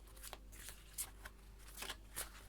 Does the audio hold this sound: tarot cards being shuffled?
yes